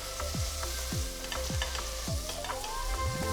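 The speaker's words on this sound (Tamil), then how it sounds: "இதில் மெலிசா நறுக்கின வெங்காயம் 1, நீல வாக்கில் நறுக்கின 2 பச்சை மிளகாய் போட்டு வதக்குங்க." Sliced onion and two green chillies sautéing in a hot pan, a steady loud sizzle broken by repeated scraping strokes of a spoon stirring about every half second.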